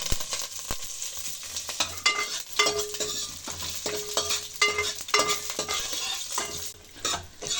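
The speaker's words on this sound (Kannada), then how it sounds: "ಒಗ್ಗರಣೆಗೆ ನಾನಿಲ್ಲಿ ಸಾಸಿವೆ, ಮೆಣಸಿನ್ಕಾಯಿ, ಒಣಮೆಣಸಿನ್ಕಾಯಿ, ಕರಿಬೇವಿನ ಸೊಪ್ಪು, ಒಂದು ಸ್ವಲ್ಪ ಬೆಳ್ಳುಳ್ಳಿ ಹಾಕ್ತಾಯಿದ್ದೀನಿ" Mustard seeds, green chillies, dry red chillies, curry leaves and a little garlic tempering in hot oil for a greens sambar, giving a steady sizzle with sharp crackles and occasional spoon-on-pan scrapes, close and alone.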